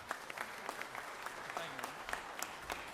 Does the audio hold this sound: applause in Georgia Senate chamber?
yes